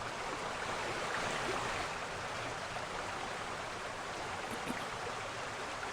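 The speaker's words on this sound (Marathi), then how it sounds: "रामकुंड परिसरात गोदावरी नदी दुथडी भरून वाहतीये।" The flooded Godavari river at Ramkund in Nashik, swollen by continuous rain, gives off a dense, steady rushing roar of fast-flowing water, broad and unbroken, with no voices.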